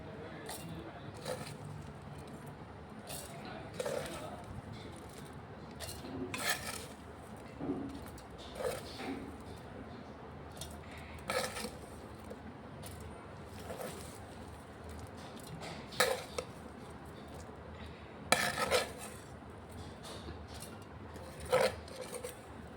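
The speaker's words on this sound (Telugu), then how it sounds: "ఇప్పుడు దీన్ని మొత్తము మనం మిక్సీ జార్లో వేసుకోవాలి" Spoonfuls of homemade tamarind chutney mixture scraped into a mixer jar give off faint, scattered rubbing and scraping sounds, with a few sharper clinks near the end, all quiet and close.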